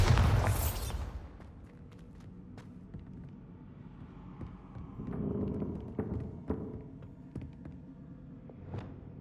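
A Bombarda blasting spell detonates in Hogwarts Legacy, opening with a loud explosive burst that fades into a low rumble, followed by scattered faint thuds and clicks.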